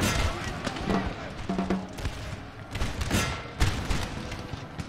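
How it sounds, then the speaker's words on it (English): Massed infantry musket volleys crackle and boom in a Napoleon: Total War battle, rapid overlapping shots and thumps at varying distances, with someone talking over the gunfire. "Our infantrymen here are busy shooting. Shooting at point blank range, apparently."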